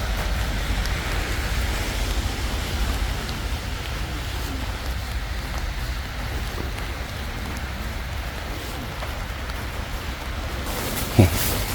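Steady rain pattering on a budget camping air tent at a rainy campsite in Cheonan, a constant dense hiss that holds even throughout, with one sharp knock near the end.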